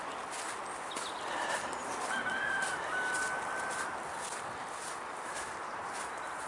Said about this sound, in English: Just got to go and feed the hens this morning.